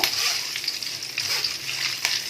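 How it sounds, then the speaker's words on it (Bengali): Curry leaves crisp in hot oil for Bengali-style fried rice flakes, a loud, close sizzle broken by sharp crackles and spits, with no voices. "কিছুটা কারি পাতা নিয়েছি, নিয়েই তেলটা দিয়ে দিলাম। মচমচে করে ভেজে নেব"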